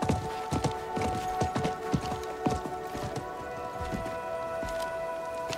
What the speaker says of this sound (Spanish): Creo que era el caballo del mercader.